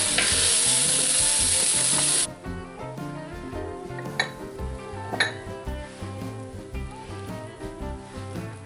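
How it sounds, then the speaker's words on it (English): Sausage meat browning in a cast iron pan gives a loud, steady sizzle at first, then settles into quieter frying with occasional stirring scrapes and light clinks of a utensil against the pan. "I'm going to add my sausage here and get this browned up."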